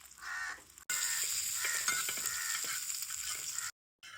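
Raw mango and garlic roast in a hot pan, a steady bright sizzle with stirring scrapes, cut by a brief gap near the start and a silent dropout near the end.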